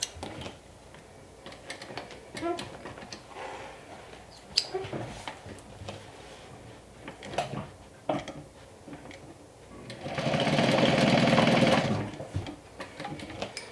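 Sewing machine stitching the lining of a crossbody bag, heard as scattered clicks and handling noises before a loud, steady burst of stitching runs for about two seconds near the end, close up with no talking.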